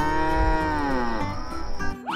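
A cow lets out one long, loud moo, a sustained tonal low that bends slightly downward in pitch before cutting off near the end.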